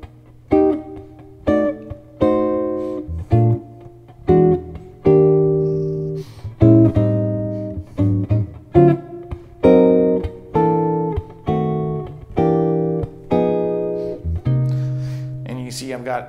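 Jazz guitar chords are comped in short, syncopated stabs with brief gaps between them, played clearly and up close with no voice.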